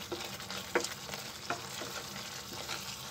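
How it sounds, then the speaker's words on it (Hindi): Onion and garlic sizzle in a pan over a medium flame for palak paneer, a soft continuous frying crackle close by, broken by a few light scraping stirs of a spoon. "हमारा अनियन और गार्लिक तो पहले से ही भुना हुआ है, लेकिन फिर भी हल्का सा ऐसे हम भूनेंगे"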